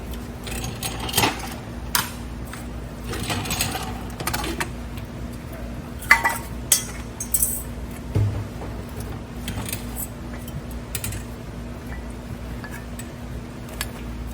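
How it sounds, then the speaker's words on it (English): Brake caliper coming off a 3rd gen Toyota Tacoma, scattered metallic clinks and taps with brief rattles, separated by quieter stretches over a low steady hum. "Now we can remove the caliper from the brake."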